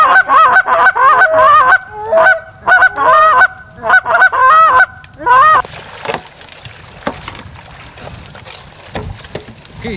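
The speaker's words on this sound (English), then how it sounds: "Geese coming right in." A flock of geese honking as they fly in, several loud, close bursts of overlapping calls in the first half, then fading into quieter water and ambient sounds.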